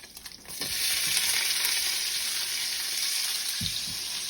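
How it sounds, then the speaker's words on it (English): A whole thinly sliced onion hits hot fat for a sauce, a few soft stirring knocks giving way to a loud, steady sizzle of frying that holds close and continuous. "we are going to add an entire onion that has been thinly sliced"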